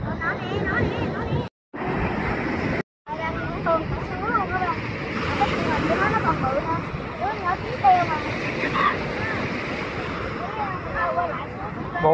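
Gentle surf washes steadily at Nha Trang beach on a breezy summer afternoon, with wind buffeting the microphone and people chatting nearby over the continuous wave wash.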